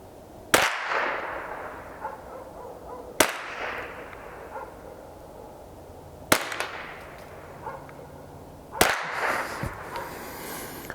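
Four sharp gunshots from a Glenfield Model 60 .22 rifle, loud and widely spaced a few seconds apart, each cracking and fading into a short outdoor echo, with quiet ambience between shots.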